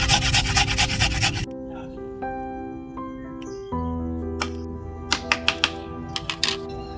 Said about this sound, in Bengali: ছোট এক টুকরো আদা এটাও ঘষে দেবো